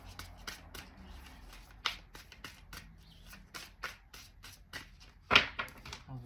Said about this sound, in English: I'll cut the deck and take 3 cards